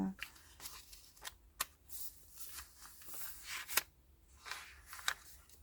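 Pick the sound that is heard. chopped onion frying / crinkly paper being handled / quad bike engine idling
crinkly paper being handled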